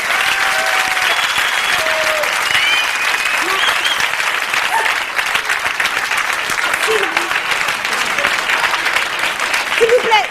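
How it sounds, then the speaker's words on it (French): A studio audience applauds loudly and continuously for a television show guest, a dense wash of clapping with scattered cheers and whistles. "Et vous pouvez applaudir très très fort."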